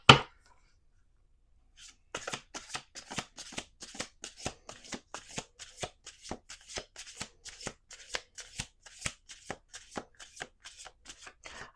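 Tarot cards are shuffled in a fast, even run of crisp riffling bursts, close and clear, starting after a brief quiet pause.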